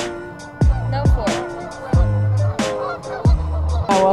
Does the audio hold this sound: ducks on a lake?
yes